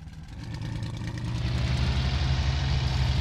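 A WWII fighter's aircraft engine held at full power against wheel chocks in the flight sim IL-2 Cliffs of Dover, a steady low roar that builds slightly louder over a few seconds and stays dense and continuous.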